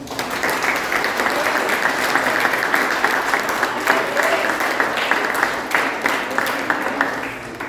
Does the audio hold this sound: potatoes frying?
no